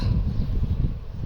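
Low, rumbling wind buffets the microphone in a steady, gusty roar, with no other clear sounds.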